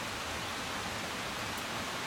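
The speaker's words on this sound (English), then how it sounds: "It's raining." Steady rain falling outdoors on a rainy day, a dense, even hiss of drops with no distinct splashes, continuous and fairly quiet throughout.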